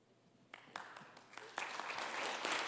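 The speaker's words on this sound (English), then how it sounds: "Can we have one more large round of applause?" Audience applause at a debate on whether Jesus existed, starting sparse with scattered claps, then swelling into dense sustained clapping from a large crowd that grows louder toward the end.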